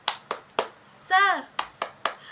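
In a classroom cheer, a single voice, likely a child's, chants briefly between short, sharp hand claps: three claps, a spoken call, then three more claps, close and clear.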